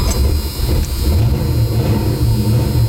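A car fitted with a brand-new dual exhaust revs and pulls on a test drive, a close, throaty engine rumble rising and falling steadily, with no talk over it.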